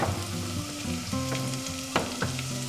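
Garlic sizzles in a pot of butter and olive oil, a steady close frying hiss with a few louder pops, while soft tonal music plays underneath.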